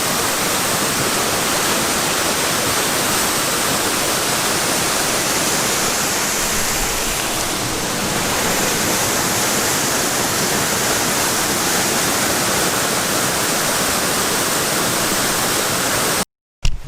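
A small waterfall trickles steadily, producing a constant broadband rush of falling water that stays close and even throughout, with no voices over it.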